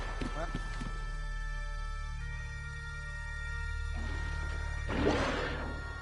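Horse hooves clip-clop at an easy pace in The Witcher 3, faint and steady beneath a long spell of speech, with a sharper thud near the end.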